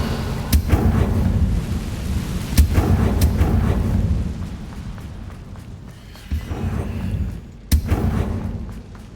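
Fire spell bursts cast in the Hogwarts Legacy video game, heard as a few sharp, loud cracks with rumbling, crackling tails, repeating irregularly over a dense booming bed.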